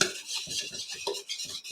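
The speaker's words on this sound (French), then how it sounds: "Maintenant, il faut bien mélanger." A utensil scrapes and clicks against a bowl as lemon cake batter is mixed by hand, in short rhythmic strokes close to the listener.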